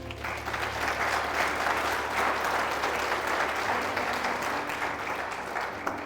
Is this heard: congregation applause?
yes